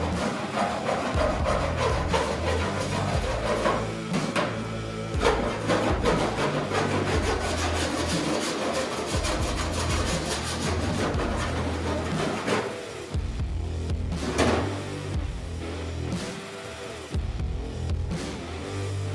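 A hand file rasps steadily across lead filler on a hot rod car body, making a continuous, dense, gritty scraping that stays loud and close with almost no pause.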